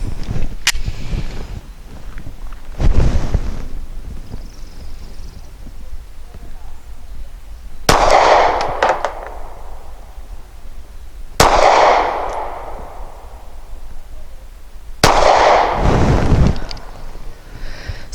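A 9mm Walther G43 pistol firing Remington Golden Saber 147 grain ammunition lets off several loud, sharp shots spaced a few seconds apart outdoors, each with a brief echo, while a person talks in between.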